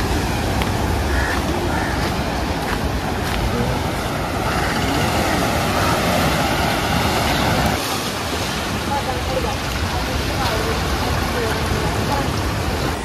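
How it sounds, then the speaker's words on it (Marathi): Ocean waves wash in at high tide on Om Beach in Gokarna, a constant loud roar of surf mixed with wind buffeting the microphone, and someone talks over the rushing water. "आता हाय टाईड असल्यामुळे पाणी एकदम पुढे वरपर्यंत आलंय."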